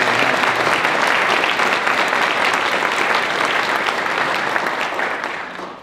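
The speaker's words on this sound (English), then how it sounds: "Let's give them a big round of applause." An audience at an elementary school ribbon-cutting ceremony applauds its guests, a dense, even round of clapping that holds strongly before tapering off at the end.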